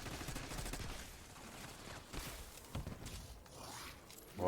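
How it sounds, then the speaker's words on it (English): In Black Ops 6 Zombies, several muffled grenade blasts and crackling bursts go off at a moderate distance, mixed with rattling debris and scattered gunfire. "Like, look at these grenade explosions"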